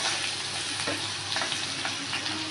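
Turmeric and dal roast in a hot pan with a dense, constant sizzle and soft stirring scrapes, close and fairly loud, ending abruptly.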